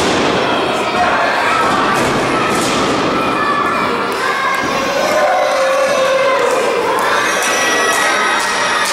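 A dense, loud crowd at a CCW championship wrestling match cheers and shouts continuously, with children's yells standing out and occasional thuds and slams from the ring.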